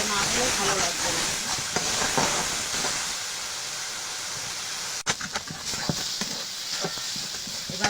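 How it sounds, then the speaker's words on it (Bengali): Sliced ridge gourd fries in a pan for a Bengali korma, with a steady broadband sizzle and occasional scraping stir strokes; the hiss is louder in the first three seconds, then eases, with a sharp clack near the middle. "এভাবে নাড়াচাড়া করে অনেক সময় ভেজে নিতে হবে"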